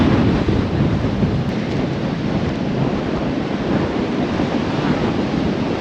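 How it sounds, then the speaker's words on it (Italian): Strong wind roars steadily across the microphone on a narrow road beside a Fiat Ducato van, a loud, continuous rumbling buffet with no voices. "Che vento, che vento."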